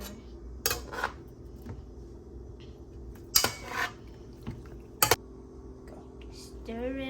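Haitian-style BBQ beef stirred in a pot, giving sparse metallic clinks and scrapes of a utensil against the pot, separated by quiet gaps.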